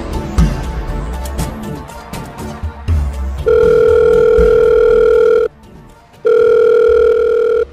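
A phone ringback tone sounds while a call is placed: a few soft clicks, then two long, loud, steady ring tones separated by a short gap.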